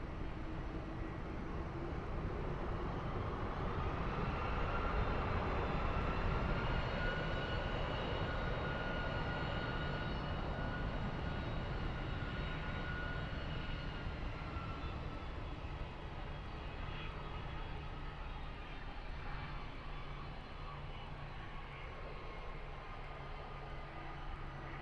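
An airliner at Lisbon Airport, a steady distant jet engine roar with slowly shifting tonal whines that fades gradually over the stretch, with no voices.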